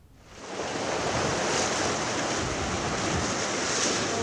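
Water swirled in a tin bath imitates the ocean, a steady broad wash like surf that swells in over the first half second and then holds loud and even without any voices.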